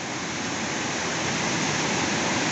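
Strong river current rushing after heavy rain at Serra Azul, Palmares, Pernambuco, a steady dense roar of churning water that holds at an even level with no voices.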